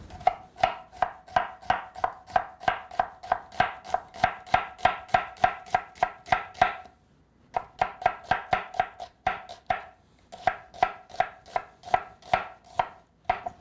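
Rapid, steady knife chops through an onion on a cutting board, a long run of crisp evenly spaced strokes with a brief pause near the middle, close and clear with no talking.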